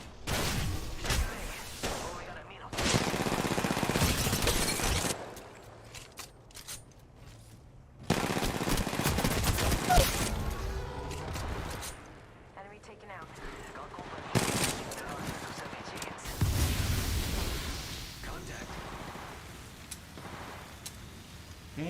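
Bursts of automatic gunfire crackle in Apex Legends Mobile, several rapid volleys separated by short quieter gaps, loud and close, with other weapons sounding farther off between them.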